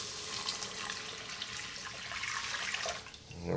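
Seafood stock pours into an Instant Pot in a steady, splashy liquid stream, a soft continuous gurgle that holds for a few seconds before tapering off near the end.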